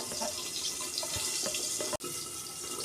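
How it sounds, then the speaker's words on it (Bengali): Water poured onto washed mustard seeds before grinding them into a paste for a katla fish curry, a continuous splashing trickle for a few seconds with one brief break near the end. "এই যে আমি অল্প জল দিচ্ছি, পেস্ট করবো এটা।"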